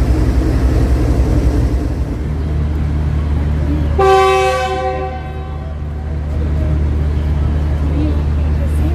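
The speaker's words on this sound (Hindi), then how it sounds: "डिपार्चर विसल हो चुका है और ट्रेन अभी उखाड़ा रेलवे स्टेशन से रवाना हो रही है" The departure horn of the 07UP Tezgam Express, GEU-40 locomotive 9016, sounds at Okara railway station as the train pulls out: one bright, sustained blast of about two seconds over a steady low rumble.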